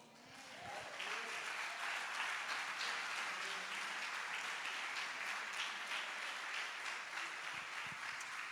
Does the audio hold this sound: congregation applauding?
yes